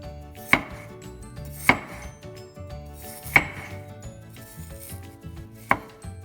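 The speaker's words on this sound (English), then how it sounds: "now you can go ahead and cut the potato up into smaller pieces" A knife cuts a peeled potato into smaller pieces on a cutting board, giving four sharp, distinct chops spaced about a second apart over faint kitchen background, with no talking.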